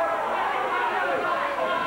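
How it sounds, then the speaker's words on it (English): Crowd at a 1989 CWA Memphis Championship Wrestling arena event, a steady dense murmur of many voices filling the hall, continuous and moderately loud without any single voice standing out. "You may be able to hear the crowd."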